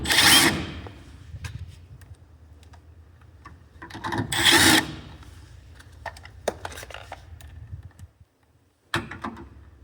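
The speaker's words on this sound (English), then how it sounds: "You're gonna take your driver and the screws and you're gonna put them back in." A driver sinking screws into the bottom bracket of a BarMobile unit, two loud whirring bursts among scattered rubbing and clicking handling noises, close by, with no talking.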